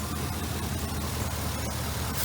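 A 1967 Pontiac engine with a clutch fan idles in a steady, loud, close rumble with an even low throb throughout, and no one speaking over it.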